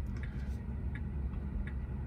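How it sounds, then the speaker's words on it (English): A Tesla Model 3 turn indicator ticks faintly at a regular pace, three soft clicks over the low rumble of the car's cabin. "the indicator's on the other side of the steering wheel"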